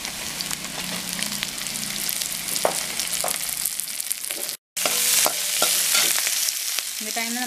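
Onions and capsicum sautéing in a pan for Chinese-style mushroom noodles, a loud steady sizzle with clicks and scrapes of a spatula stirring, broken by a brief cut before the frying resumes even louder.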